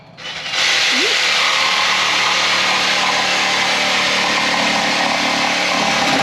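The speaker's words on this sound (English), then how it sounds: "But he has the jigsaw right now. He's going to be cutting 2x4s for the bed." A jigsaw cutting 2x4 lumber for a bed frame starts after a brief quiet moment, then runs as a loud, steady buzzing drone close by without a break.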